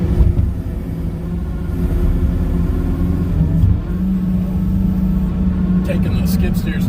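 A skid steer loader works in the timber, its diesel engine rumbling steadily and loudly close by from the cab, with some clanks near the end and talking over it.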